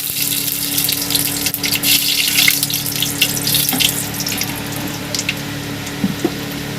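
Nigella seeds sizzling in hot oil, a steady bright hiss and crackle that runs continuously, close and fairly loud with no talk.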